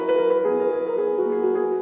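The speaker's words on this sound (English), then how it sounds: "a trill is an ornament used to alter between two close notes" A piano trill alternates rapidly between two close notes, a quick even flutter held steady at moderate volume with no voices.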